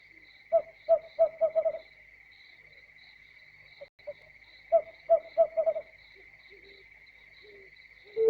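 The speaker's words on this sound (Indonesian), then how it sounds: "burung hantu bersahutan." Owls call back and forth at night over open ground, each giving a quick run of four or five low hoots, while a steady high insect drone continues underneath.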